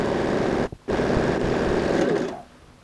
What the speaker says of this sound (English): place the guide to the edge of the fold and sew a top stitch